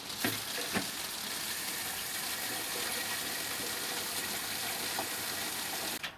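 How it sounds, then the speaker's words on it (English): Water gushes steadily into a garden sprayer as it is filled to the top for a homemade powdery mildew treatment, a continuous loud rushing pour that runs the whole time with no voices. "And then fill it to the top with water."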